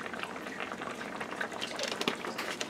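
Tilapia sauce with a splash of calamansi juice simmers in a pan, giving a soft, continuous bubbling and popping that stays fairly quiet and even throughout.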